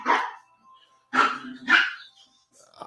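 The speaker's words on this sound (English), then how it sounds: "That dog noise." Dog barking in short, sharp bursts, three or four loud barks spaced about half a second apart, close and alone with no talk over them.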